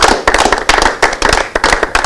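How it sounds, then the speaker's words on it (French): An audience applauds loudly for an award-winning traditional-modern music group, a dense, vigorous burst of many hands clapping that rises and surges close by. "J'aimerais qu'on applaudisse très fort pour ça."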